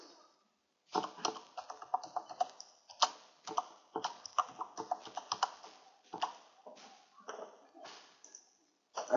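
Computer keyboard being typed on to enter a password and e-mail, a close series of quick, crisp key clicks in irregular bursts separated by brief pauses.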